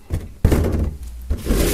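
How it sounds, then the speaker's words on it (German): A music merchandise box with a viewing window is shut with a few dull thunks and knocks, one sharp solid knock near the middle, the handling close and fairly loud. "Machen wir die Box mal wieder zu."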